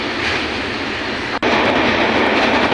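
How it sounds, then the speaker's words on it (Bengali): A goods train with some empty wagons passes alongside a moving passenger train, its loud continuous rumble and rattle filling the whole stretch with a brief dip near the middle. "ওই যে মালগাড়ি, মাল নিয়ে যাওয়া যাচ্ছে, কিছু কিছু বগি খালি আছে এখন দাদা।"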